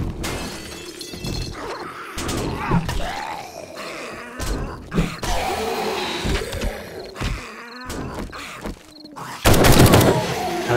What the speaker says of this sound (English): Luckily, we can shoot them through the railings.